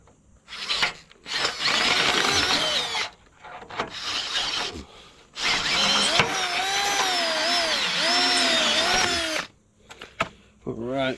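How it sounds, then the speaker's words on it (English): A power drill bores through a metal running-gear part, running in long sustained bursts with pitch shifts as it bites, separated by short pauses and handling clatter. "we'll drill it through from this side"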